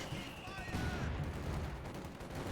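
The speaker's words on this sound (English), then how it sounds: "S-mines also exploding by the sound of it" Explosions from S-mines in the video game Company of Heroes 2 boom amid dense battle noise, with gunfire and blasts layered over a continuous rumble.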